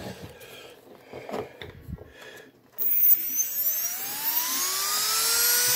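A Blade 400 RC helicopter's electric motor spins up with the throttle on, a loud rising whine climbing steadily in pitch over several seconds after quieter mechanical clicking and handling noise.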